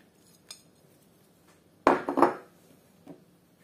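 A utensil scrapes and knocks against a bowl while yeast dough mixture for a Tatar apple pie is stirred, giving one clear clattering burst midway between a few faint taps in a quiet kitchen.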